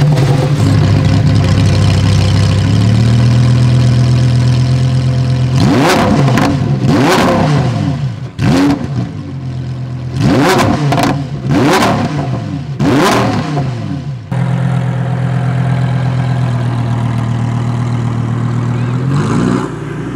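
A loud Lamborghini Huracán STO naturally aspirated engine idles, then revs sharply in a series of rapid bursts, settling back into a deep, steady, close idle.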